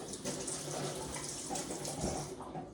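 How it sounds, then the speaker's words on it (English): A bowl coated with brown sugar is rinsed under a running kitchen tap, giving a steady, continuous gush and splatter of water, close and fairly quiet, with no one speaking. "I'm also gonna rinse this off because there's a lot of brown sugar in it too"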